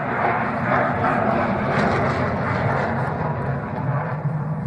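A Mirage 2000 jet fighter roars overhead at the Dubai Airshow, a loud, sustained broadband jet rumble with a rough, surging texture, heard from a distance and filling the whole stretch.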